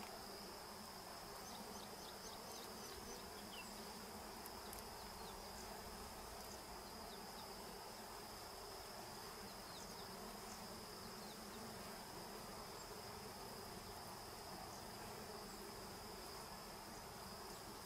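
Wild forest bees buzz steadily throughout during a wild-bee hunt, a dense outdoor insect drone with a high insect whine layered on top, continuous and moderately loud with no talk.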